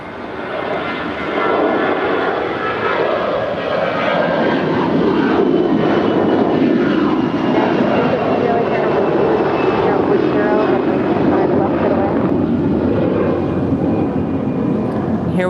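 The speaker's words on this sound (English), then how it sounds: "Here we've got American Flight 990 headed to Atlanta on an A321 that is 9 years old." An American Airlines Airbus A321 jet, nine years old, roars loud and steady at Los Angeles airport, its engine noise building in the first seconds and then holding, with faint talk beneath.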